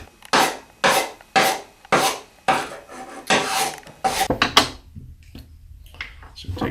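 A file cleaning card scrubs debris from a metal file while broadhead arrowheads are sharpened, giving about seven regular, sharp rasping strokes that then break into quicker, irregular scrapes and taps, close up, with no talking.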